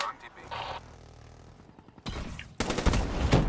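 Gunfire in a Call of Duty: Black Ops 3 multiplayer match, a sparse shot early on and then loud sustained bursts in the last second and a half. Someone talks over the start.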